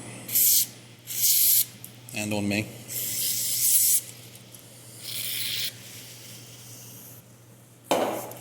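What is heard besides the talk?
aerosol brake cleaner spraying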